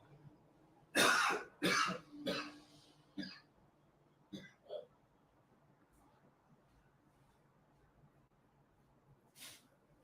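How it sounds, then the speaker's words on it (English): Someone coughing and clearing their throat at a window because something is stuck there: a few rough, close coughs in a quick cluster, followed by softer scattered throat sounds and a final short cough after a quiet stretch. "I'm going to go to the window and do a cough"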